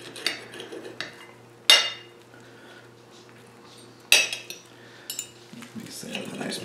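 Cutlery cuts into savory herb and pink oyster mushroom crepes on a plate, with a couple of sharp metallic clinks against the dish among quieter scraping and soft handling noises.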